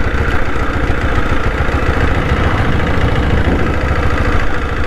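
Royal Enfield diesel Bullet motorcycle engine running in top gear at about 40 km/h, a loud, continuous low thumping drone with steady vibration throughout, no voices.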